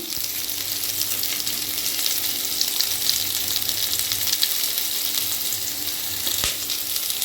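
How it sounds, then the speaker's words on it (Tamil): Curry leaves sizzling in hot oil in a pan for a Tirunelveli-style sothi curry, a steady close crackling hiss that carries on evenly without speech. "கறி லீஃப் ஆட் பண்ணிக்கலாம்"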